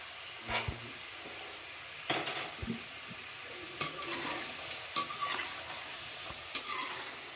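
Dough pieces of semolina, flour, ajwain and salt frying in a pan, a faint sizzle under several sharp clinks and scrapes of a utensil against the pan.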